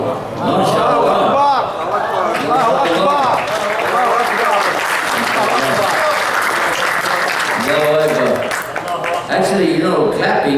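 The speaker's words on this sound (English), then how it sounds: "clapping is something that they used to do" An audience claps in loud, sustained applause at a religious talk, with voices and crowd chatter mixed through the clapping.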